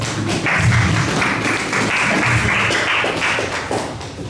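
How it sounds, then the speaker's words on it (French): A church congregation breaks into sustained applause and cheering after a call to acclaim the word of the Lord, a dense, steady crowd roar with clapping lasting several seconds at close, even loudness. "Acclamons la parole du Seigneur."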